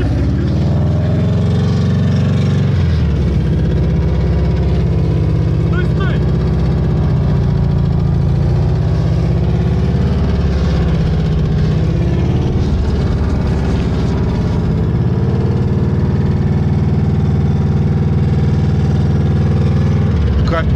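An off-road SUV engine runs loud and steady at close range with a deep, continuous rumble, shifting slightly in load as the vehicle crawls over rough ground.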